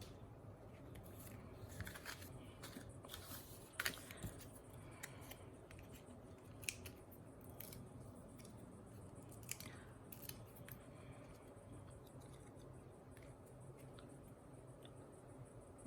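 Scissors trimming card paper for handmade Christmas cards, a series of faint, close snips and crisp clicks at irregular intervals over quiet room tone; no talking.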